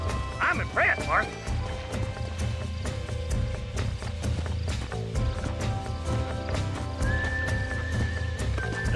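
A horse in the Red Dead Redemption video game whinnies sharply, then its hooves clop steadily beneath game music and character voices.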